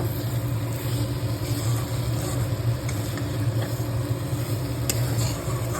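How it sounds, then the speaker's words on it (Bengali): Potatoes fried with salt and turmeric are stirred into a spice paste in a pan over a gas flame for a pointed gourd, potato and prawn curry, giving a steady, close, continuous sizzle with faint scraping over a low hum and no talking. "নুন হলুদ দিয়ে যে আলুটাকে ভেজে রেখেছিলাম সেটা দিয়ে ভালো করে কষিয়ে নেব"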